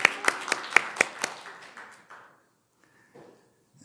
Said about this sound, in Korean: 우리 할렐루야 찬양대 다시 한번 감사의 박수